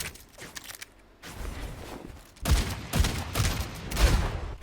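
Ashe's revolver from Overwatch 2 in a highlight intro animation: a few quiet mechanical clicks and rustles, then a series of loud, close gunshots with heavy booming impacts.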